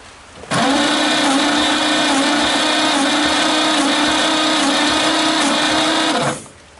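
An engine cranks on its starter during a wet compression test after a capful of oil is poured into the cylinder, a steady loud whirring drone lasting about six seconds before winding down.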